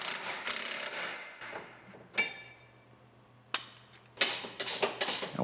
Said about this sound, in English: Put our drive axle nut on, tighten that down to manufacturer specs